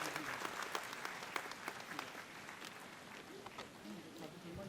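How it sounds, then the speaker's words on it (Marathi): Loud applause from a crowd at a Brahmin community gathering welcomes a newly announced state president, a dense, continuous patter of clapping close by with a few sharper claps standing out. "जोरदार टाळ्या वाजवून त्यांचं स्वागत करा."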